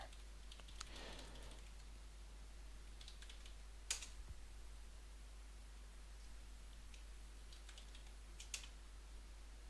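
Keys tapped on a computer keyboard while logging in to a file server: sparse, quiet clicks and a few sharper strokes over a steady low hum, with no talking.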